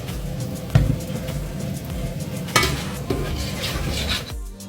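Lentils frying in a pan with cinnamon, bay leaf and cardamom, a soft steady sizzle broken by a few sharp clinks and scrapes of a spoon stirring against the pot, fairly close and quiet, without talk.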